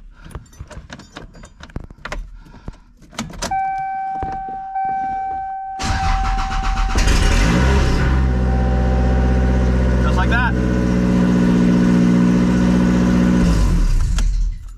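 Toyota RAV4 with a 2AR or 3SGTE engine swap and tachometer fix, starting up and then running steadily and loud, after a stretch of clicks and jangling with a tone.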